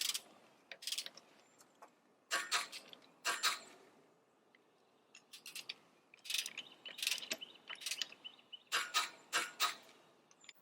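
Ratcheting clicks from a torque tool snugging down rusty lug nuts on a Honda Accord wheel, in several quick bursts separated by short pauses, fairly close and with no talking.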